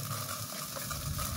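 Garlic and onion sizzle in a pan for tuna pasta, a steady, close frying hiss with no speech.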